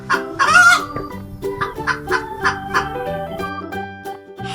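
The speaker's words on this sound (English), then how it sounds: "Hen." A hen clucking in a steady, loud, close series of short rhythmic clucks, with a squawkier burst near the start, heard alone without any voice.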